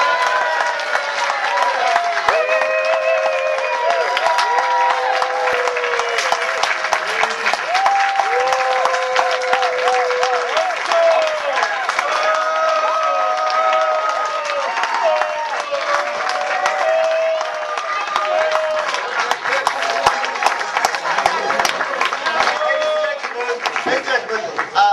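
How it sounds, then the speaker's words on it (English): Sustained applause from a theater audience after a Purim performance of The Whole Megillah, a dense, loud wall of clapping and crowd noise with a musical tone running beneath it throughout. "Thank you for that applause"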